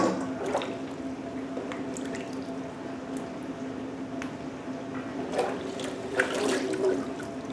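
Water runs steadily from a tap to rinse out a container for canning green beans, a continuous close splashing wash with a few brief clinks and knocks over it.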